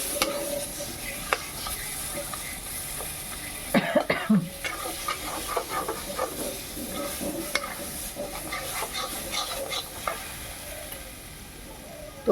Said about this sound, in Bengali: ঘন্টটাকে আমি ভেজে নিচ্ছি।